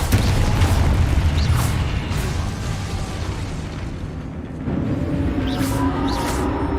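Confringo spell blasts in the Hogwarts Legacy video game, a dense rumbling explosive roar with bright bursts that stays loud and continuous throughout, swelling again near the end.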